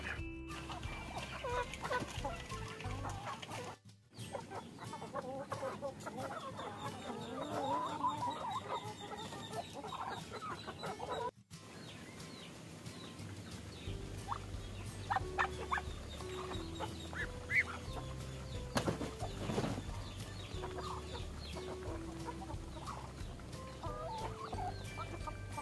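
A flock of Brahma breeder chickens cluck and chatter continuously while feeding, with occasional louder squawks and honking calls mixed in, close and busy.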